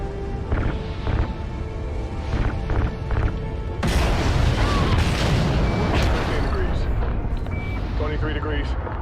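Heavy gunfire and explosions in a video game battle: a steady barrage of shots gives way to a dense, continuous roar of loud blasts and rumbling booms, with faint voices mixed in.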